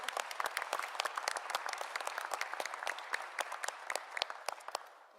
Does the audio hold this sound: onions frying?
no